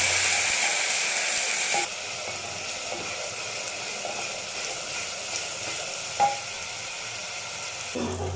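Ginger-garlic paste and masala sizzle in a pan while being stirred, a steady frying hiss that drops after two seconds, with soft scraping stirs and a brief clink near the end.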